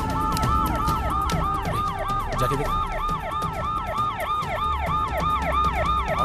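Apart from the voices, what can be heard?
ambulance siren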